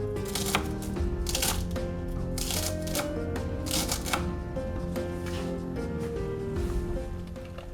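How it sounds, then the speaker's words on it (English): Parsley stalks being chopped with a knife for a Scottish fish soup, a steady run of quick close taps on a board under continuous background music. "Cut up some of the stalks of the parsley"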